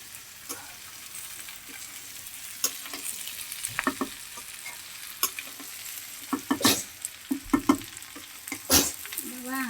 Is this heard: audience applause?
no